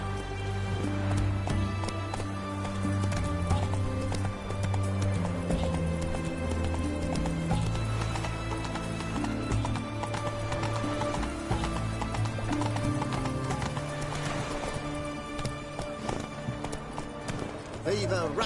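Geralt's horse Roach gallops in The Witcher 3, fast clip-clopping hooves and a neigh running continuously beneath loud game music and ambient sound for the whole stretch.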